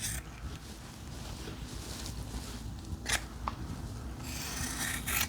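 Scissors trim the seam allowance on fabric joggers, giving soft, close snipping and rubbing over a low background hiss, with a couple of sharper cuts near the end.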